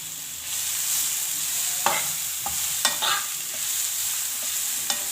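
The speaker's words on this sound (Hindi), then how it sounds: "अब ये मूलियाँ जो कद्दूकस की हुई हैं ये डाल देंगे। इनको ऑयल में हल्का सा फ्राई कर लेंगे।" Grated radish frying in cooking oil makes a steady, close hiss, broken by a few sharp clicks and scrapes from stirring. No voices are heard.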